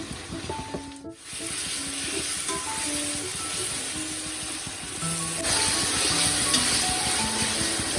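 Tomatoes hitting hot biryani masala in a pan for a Coimbatore-style biryani, giving a steady close sizzle with stirring and scraping that grows a little louder midway, no talk.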